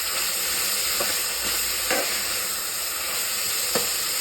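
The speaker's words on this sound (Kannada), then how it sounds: "ಸ್ವಲ್ಪ ಫ್ರೈ ಆಗತ್ತಿದೆ. ಸೌಂಡ್ ಬರ್ತೈತೆ ನೋಡಿರಿ, ಸೌಂಡ್ ನಿಮ್ಗೆ ಗೊತ್ತಾಗ್ತೈತಿ." Ingredients for a pulao frying steadily in a pan, a continuous loud sizzle with a few brief stirring scrapes breaking through.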